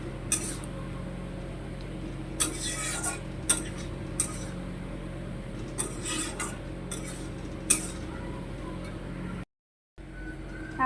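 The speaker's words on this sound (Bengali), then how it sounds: "তো এটাকে আমি ভালোভাবে এইদিক ওইদিক করে যাতে এতে সব কিছু মশলা টশলা সব ভালোভাবে মিশে যায়।" Fried paneer stirred with spices in a pan, scattered sharp metallic scrapes and clinks of a spoon against the pan over a low steady background hum, no talk.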